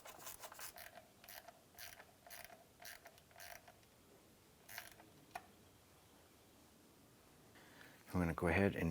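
Ratchet clicking in quick bursts while snugging down the bolts on a plastic cover of a 2001-2005 Honda Civic during crankshaft position sensor work, close and moderately quiet, with a voice coming in at the end.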